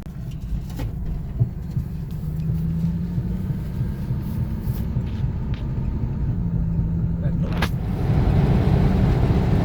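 A G-body station wagon back on the road after 24 years drives along, its engine and road noise a steady close interior rumble with faint rattles throughout.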